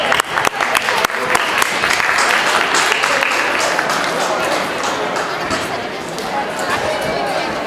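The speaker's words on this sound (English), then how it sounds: "Please give a big round of applause." An audience at a panel discussion on home buyers breaks into applause, a few sharp early claps quickly building into a loud, sustained, dense clapping that holds steady throughout.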